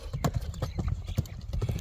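Hooves of a six-year-old horse clip-clop close by in a steady, uneven rhythm of sharp knocks lasting throughout, with faint voices in the background.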